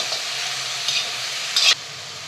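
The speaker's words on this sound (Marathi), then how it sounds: "आता या भाज्या ज्या आहेत त्या फोडणीमध्ये सगळ्या मिक्स करून घेऊया." Potato, cucumber and pumpkin pieces are stirred into a sizzling tempering in a pan, with a steady hiss of frying and a couple of brief louder scrapes, close by, without talk.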